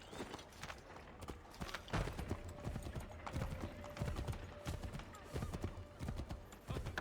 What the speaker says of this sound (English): Oh look, this is my horse now.